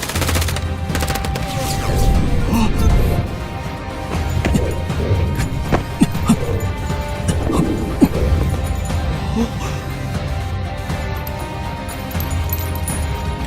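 Gunfire in a fantasy action drama fight against a mutated python rings out as loud, sustained rattling bursts, with a couple of sharper cracks standing out over a dense, noisy background.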